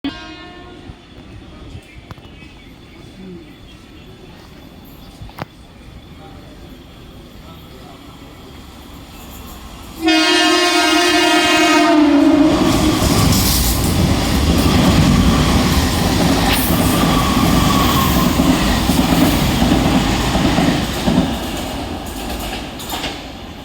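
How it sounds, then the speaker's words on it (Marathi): A slow Mumbai Central line local train bound for Kalyan rolls into platform 1 loudly with a long horn blast, the steady rumble and clatter of carriages filling the platform after a quieter start. "एक वाजून 34 मिनिटांची कल्याणला जाणारी धीमी लोकल थोड्या प्लॅटफॉर्म क्रमांक 1 वर येत आहे"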